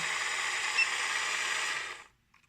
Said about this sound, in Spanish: si conectamos nuevamente el motor, se observa